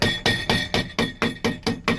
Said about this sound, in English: As I'm just lightly hammering it here.